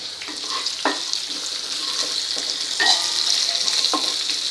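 Green chilies fry in hot oil for potato bhaji, making a loud, steady sizzle up close, broken by a few sharp pops and brief scraping stirs.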